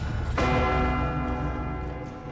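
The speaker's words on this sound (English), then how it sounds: "Oh, those bells are very striking" Video game bells ring out in one heavy struck peal, a loud clang with a long, slowly fading hum of overtones and no voices.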